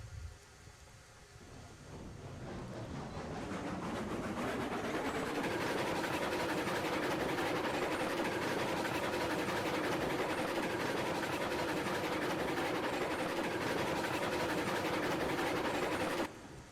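A small porter steam locomotive in the Railroads Online game rolls along level track, a steady rumbling, clattering drone that builds over the first few seconds and then holds constant and fairly loud.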